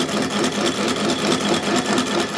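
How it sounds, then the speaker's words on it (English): A machine tool cuts a scallop into a steel part for a springer Sportster chopper frame, giving a steady, close, rhythmic whirring chatter that holds even for the whole stretch. "now we're just taking that scallop out so that we can weld it on the frame tube"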